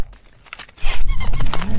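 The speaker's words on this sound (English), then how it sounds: "Lefty definitely loves squeaky toys." A dog's squeaky toy squeaks in short repeated bursts, close and fairly loud, with some rustling and movement around it.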